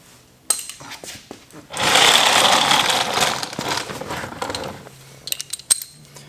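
A 5/16 drill bit bores a hole in a Goldwing GL1800 trailer hitch frame, a loud sustained whirring grind lasting a few seconds, framed by clicks and handling noises before and after.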